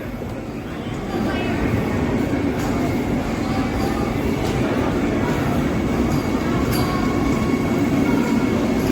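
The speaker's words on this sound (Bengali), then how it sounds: "অযোধ্যা টু প্রয়াগরাজ জংশন বন্দে ভারত ঢুকছে" Vande Bharat Express train from Ayodhya to Prayagraj Junction pulls into Ayodhya station in the morning, a loud, steady rumble of rolling wheels building up after the first second and continuing throughout.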